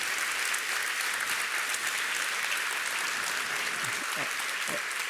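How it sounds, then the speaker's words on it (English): Sustained audience applause fills a hall at an award ceremony for European design, steady and dense throughout, with faint voices rising briefly near the end. "A round of applause."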